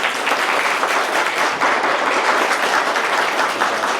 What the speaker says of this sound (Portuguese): eu quero uma salva de palmas para ele, porque ele se destacou